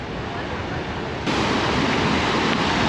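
Water rushes steadily near the site of an old mill in Gdańsk, a close, continuous broadband roar that grows louder partway through, with no talking.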